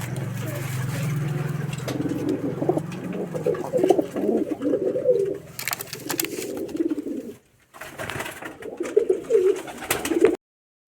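Rajshahi Giribaz flying pigeons coo nearby in a series of low, throaty, rolling calls, repeated in bursts with a short pause near the end, over a faint background hum.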